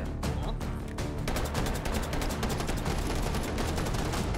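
Rapid Glock 22 pistol fire in Hot Dogs, Horseshoes & Hand Grenades, a dense run of sharp close shots that rattle on almost without pause and sound loud and unbroken throughout.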